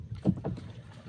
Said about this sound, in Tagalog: Yan, puro sagwan na.